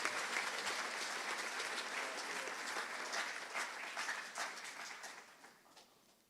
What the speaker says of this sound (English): Will you give another round of applause,